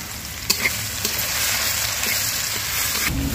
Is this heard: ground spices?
yes